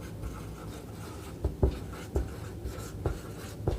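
A pen or chalk writes by hand during a class 10 chemistry lesson, producing a few soft, close scratchy strokes spaced irregularly over a quiet room.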